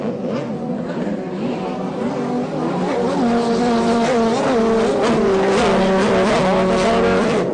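Pro watercross racing watercraft with roughly 1,100 cc engines roar loudly and continuously at Lake Havasu City, Arizona, their pitch rising and falling as several machines accelerate and pass together.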